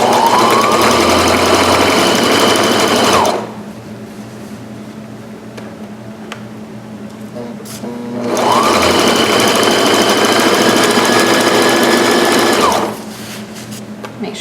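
A sewing machine stitching the hem of pajama pants runs in two loud, steady bursts of fast mechanical whirring, each lasting a few seconds and separated by a quiet pause with faint handling noise.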